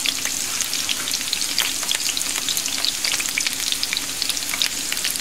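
Chopped onion with whole green chilies sizzles and crackles steadily in hot oil for a traditional kadhi, a dense continuous frying hiss with scattered pops and no voices.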